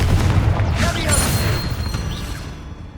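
A fiery Confringo spell explosion from Hogwarts Legacy bursts with a loud low boom and crackling debris, fading over a few seconds, with background game sounds.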